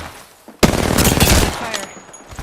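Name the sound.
gunfire in a video game (shooter)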